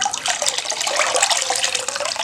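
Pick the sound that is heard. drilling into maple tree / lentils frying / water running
water running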